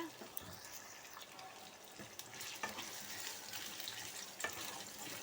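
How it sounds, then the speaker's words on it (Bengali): Taro pieces fry in oil in a pan with a soft, steady sizzle and a few clinks of stirring, quiet and close throughout. "দেখো এমনি করে একটু ভাজছে"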